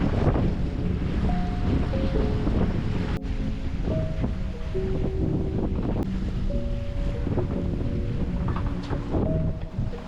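Wind and waves aboard a sailboat under way in about 15 knots of true wind from the port aft quarter, a steady broad wash of water and wind noise with some tonal hums, continuous and close throughout.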